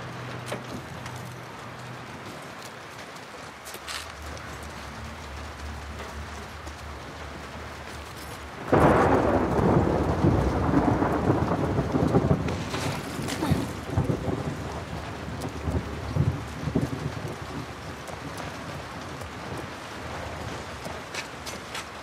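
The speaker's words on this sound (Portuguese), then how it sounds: "que tempestade, né, velho? Como chove nesse lugar" A thunderstorm with heavy rain in The Last of Us Part II begins as a low, quiet wash. Partway through, a loud thunder crack bursts in, and a dense roar of rain and wind follows and gradually settles.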